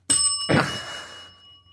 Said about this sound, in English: I have a pun bell